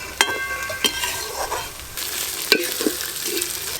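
Ginger, garlic and onion frying in a pan while being stirred, with a steady sizzle under sharp scrapes and clinks of the spoon against the pan, several distinct strokes, close and alone without talk.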